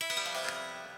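A single guitar power chord with open strings, in standard tuning, strummed once, ringing out and slowly decaying, fairly quiet.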